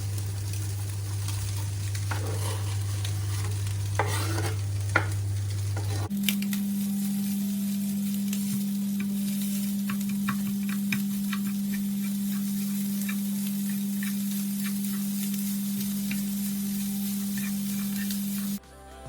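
Chopped onions sauté in a hot pan with spices while preparing a crispy chicken börek, giving a steady, continuous sizzle and hiss with faint crackles over a constant low hum, no voices.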